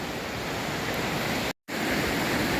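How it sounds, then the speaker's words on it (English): A waterfall at Ricketts Glen State Park roars as a steady, loud, broadband rush of falling water, continuous and close, broken only by a brief cut of silence midway. "Coming up to the next waterfall here."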